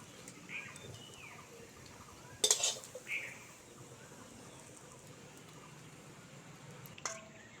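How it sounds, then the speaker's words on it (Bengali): Fried potato flower fritters lifted out of a pan in a home kitchen, with quiet scrapes and light clinks of a utensil against the pan, sharper metallic taps around the middle and end over a faint background. "বড়াগুলো ভাজা হয়ে গেছে, তুলে নেব।"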